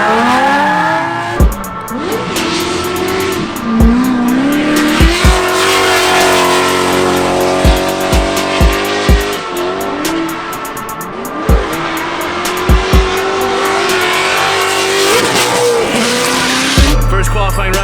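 Race car running practice laps on a long track, engine roaring and revving loudly throughout with repeated gear shifts, tire squeal and a sharp closing burst of noise.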